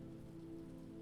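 Rain patters faintly and evenly in a soft, continuous wash, alone with no voices.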